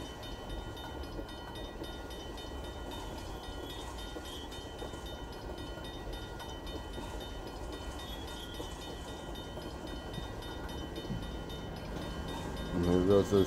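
A mile-and-a-half-long coal train rolls steadily past on the rails, bound for Red Mountain, a continuous rumbling, rattling drone of wagons at close range that swells louder at the very end.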